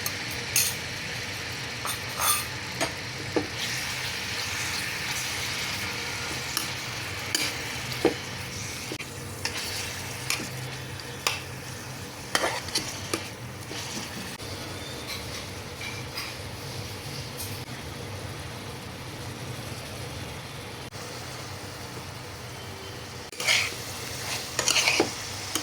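Marinated chicken frying in oil in a kadai, a steady close sizzle with occasional clinks and scrapes of a spoon stirring against the pan, no talking.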